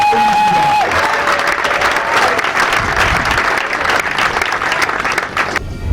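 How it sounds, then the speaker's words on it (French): Audience applause for the president of the Republic, Ali Bongo Ondimba, at a public gathering: loud, dense, sustained clapping from a large crowd for about six seconds, with crowd murmur underneath and a short tail at the end. "je vous demande d'applaudir notre président de la République, Ali Bongo Ondimba."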